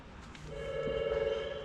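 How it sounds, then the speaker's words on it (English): A telephone rings indoors with a sustained electronic tone that swells and holds after a soft start, close and moderately loud with no talk over it. "Yep, phone's ringing."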